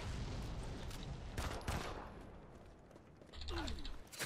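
Pistol gunfire in the Modern Combat 5 shooter game, a few sharp, quick shots and mechanical clicks among muffled game noise, fairly faint overall.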